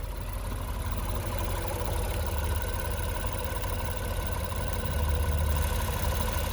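Engine of a 2022 Honda Odyssey EX-L front-wheel-drive minivan idling, a steady, even drone with a constant low hum that stays level throughout, with no talking.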